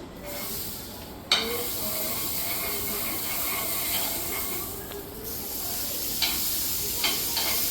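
Butter sizzles in a hot pan with a steady hiss and crackle. A few sharp scraping or stirring clicks break in now and then.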